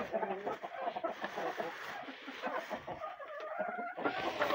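Hens cluck nearby in a farmyard, making a busy, irregular chatter of short calls that stays moderately close.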